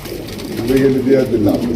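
Red spangle pigeons coo in low, throaty rolling calls close by, several overlapping coos over a couple of seconds with a voice talking alongside.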